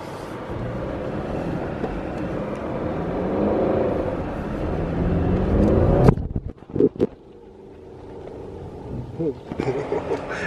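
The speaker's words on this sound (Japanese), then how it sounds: "じゃあ今度は塗り慣れた XV を試したいと思います。" A Subaru XV drives on ice, its steady engine and tire roar filling the first six seconds before dropping away to quieter, broken noise, with people talking throughout.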